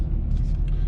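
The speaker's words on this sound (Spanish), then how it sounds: "también nos indica que el escape ya suena más" Exhaust note of a 2021 Jaguar F-Type R, a steady low rumble that holds close and loud through the whole brief moment.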